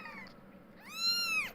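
A tiny tabby kitten gives two meows, a short faint one and then a louder, longer, rising-and-falling cry, close and alone against a quiet background.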